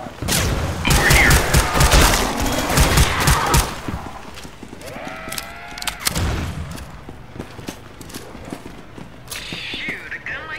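Gunfire in a video game mod with body-cam view, sounding as loud, dense bursts of shots early on, then sparser cracks and reverberant echoes over background noise.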